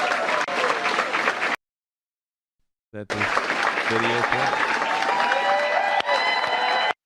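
A crowd at a speech claps and cheers loudly. The applause is broken by a stretch of silence and then resumes with voices and music-like tones mixed in, and someone briefly talks over it.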